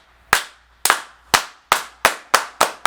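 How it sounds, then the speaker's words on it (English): A coach claps his hands seven times in a slow, steady rhythm, each clap sharp, close and loud with a brief ringing tail, no talking in between. "Coach, you want to clap?"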